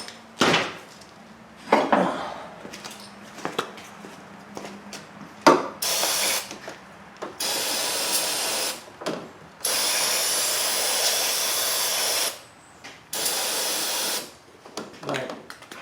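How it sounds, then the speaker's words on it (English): Brake cleaner sprays from an aerosol can while working on a 2002 Chevrolet Impala during a power steering pump and reservoir replacement, coming in several long loud hissing bursts between short knocks and clatter. "Went through a whole can of brake clean."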